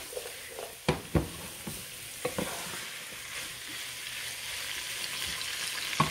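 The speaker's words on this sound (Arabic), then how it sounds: "نفضل نسيبهم بقى يتقلبوا كده مع بعض شويه، يتشوحوا مع بعض. انا هقلبهم كده بالحله" Chicken and potato pieces stirred and sautéed in a pot, a soft continuous sizzle broken by a few sharp scrapes and clacks of the spoon against the pan near the start, close and fairly quiet.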